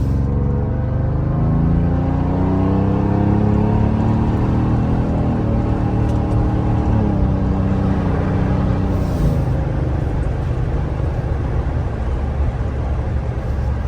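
A Toyota Tundra pickup on mud-terrain tires eases into gentle acceleration at night in normal mode, its engine a steady, close low rumble that rises slowly in pitch, with no talking.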